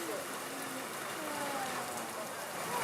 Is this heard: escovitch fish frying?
no